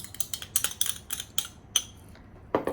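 A spoon clinks and scrapes against a bowl while mayonnaise, sriracha and sweet-and-sour sauce are mixed into dynamite sauce, giving a series of quick, bright metallic taps close by with short pauses between them.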